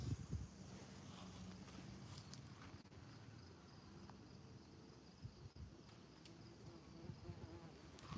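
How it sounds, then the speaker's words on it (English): A bee or yellow jacket buzzes faintly and steadily near a damaged truck under outdoor repair, its thin drone hovering over quiet background ambience without speech. "Oh, this fucking bee won't go away."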